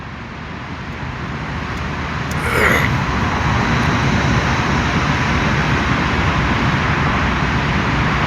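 Inside a long road tunnel on the Mumbai–Kolhapur route, a car drives with a constant broad roar of tyres and engine reverberating off the walls, growing a little louder and holding steady.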